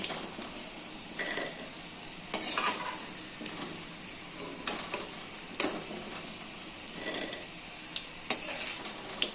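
Plantain slices frying in hot oil hiss with a steady, quiet crackle, punctuated by occasional pops and the clink of a utensil stirring in the pan.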